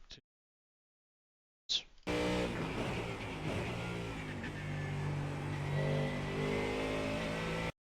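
Car engine held in third gear while braking into a corner on a racing circuit: after brief silence, a loud steady engine drone with a strong humming tone that holds through the turn, no talking.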